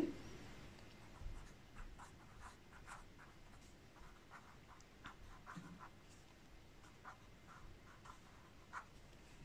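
Pen scratching on paper during a math lesson, faint soft strokes in short irregular bursts over a quiet room background.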